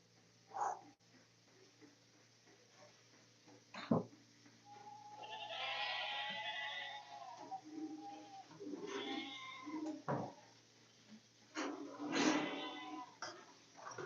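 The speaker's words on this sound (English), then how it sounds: "we got some more goat fighting here. Goat wrestling." Goats bleating as they fight and wrestle on a farm during milking, with several drawn-out cries at irregular moments, moderately near, over low barn noise and occasional thumps.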